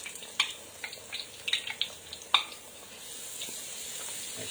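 Pakoras dropped into hot oil and frying, a soft steady sizzle broken by several short crackling bursts in the first half, fairly quiet and close with no talking.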